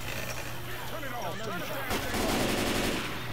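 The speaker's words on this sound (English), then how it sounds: "Who is that that's shooting at me?" Left 4 Dead 2 gunfire on the Dark Carnival campaign, rapid overlapping shots crackling over dense game noise, close and loud, under a player's talk.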